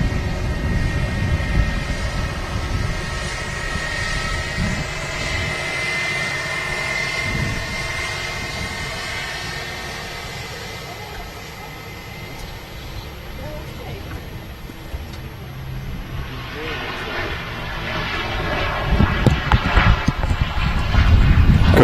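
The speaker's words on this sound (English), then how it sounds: "here she is, the Lufthansa Special Retro" The Lufthansa Special Retro airliner passes at Manchester Airport, its jet engines a loud, sustained roar with whining tones that fades in the middle and rises again near the end.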